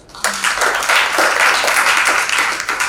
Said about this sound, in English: deserves another loud applause